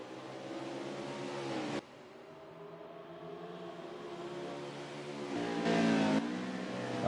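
Race cars on a green flag restart at Canadian Tire Motorsport Park in a CFRL Cup Series race, engines droning and rising in pitch as the field accelerates, loud and steady with a brief dip then a swell.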